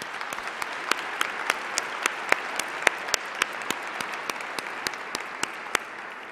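Applause for sponsors and business partners at a school district awards show, thin and fairly faint, with sparse individual claps landing in a loose, uneven rhythm.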